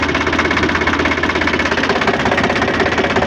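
A tractor with a broken gearbox runs steadily, its engine giving a loud, close, continuous knocking rumble with an even rapid pulse and no talk.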